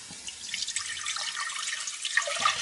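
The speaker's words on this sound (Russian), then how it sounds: "Так, воду добавили." Water is poured into a cooking pot on a home kitchen stove, giving a close, steady splashing gurgle that runs unbroken from start to finish, with no voices.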